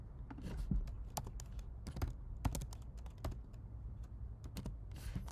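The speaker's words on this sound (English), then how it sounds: "I am not typing where I should be typing" Fingers tap on a computer keyboard in short, irregular bursts of crisp clicks, close and moderately loud against a faint background.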